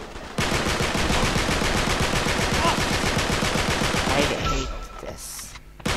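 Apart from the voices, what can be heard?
gunfire from Uncharted 3: Drake's Deception video game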